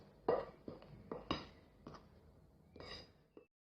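Flour and baking powder being stirred together in a bowl for a Nigerian sausage roll dough, heard as a handful of short, close scrapes and light clinks of a utensil against the bowl, with no voices.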